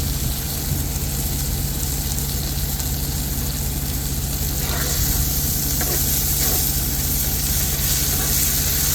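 Onions cooking heavily in a pan for homemade marinara sauce give a steady, close sizzle and frying hiss that runs unbroken throughout, with a few faint stirring scrapes and no talking.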